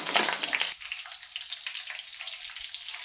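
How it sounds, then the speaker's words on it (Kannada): Curry leaves and carrot sizzle and crackle in hot oil in a pan, a steady close frying hiss with a louder burst of spatter at the start that settles into a constant sizzle. "ಅದು ಫ್ರೈ ಆಗೋಷ್ಟರಲ್ಲಿ ಸ್ವಲ್ಪ ಕರಿಬೇವಿನ ಸೊಪ್ಪು ಚಟಪಟ ಅಂದರೆ ಸಾಕು."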